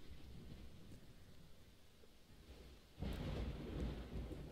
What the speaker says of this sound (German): Wie es regnet.